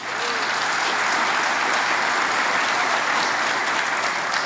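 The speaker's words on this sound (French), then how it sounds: "Applaudissements timides, mais applaudissements." Timid applause from a live comedy audience in St-Jérôme, Quebec, greeting the men's turn: steady, even clapping from a modest crowd that holds at moderate volume for the whole stretch.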